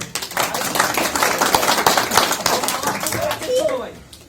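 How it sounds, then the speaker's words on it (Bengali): Audience applause at a pigeon club award ceremony, a dense burst of clapping from a crowd for a club member, steady for several seconds and fading at the end, with some voices mixed in. "একটা তালি দেন শাহেদের জন্য"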